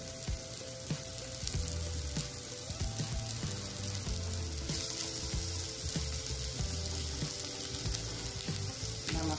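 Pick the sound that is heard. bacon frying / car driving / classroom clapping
bacon frying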